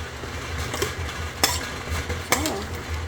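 A squid stir fry with cornstarch slurry bubbles and sizzles in a pan while a utensil scrapes and stirs, with a few sharp metallic clinks against the pan.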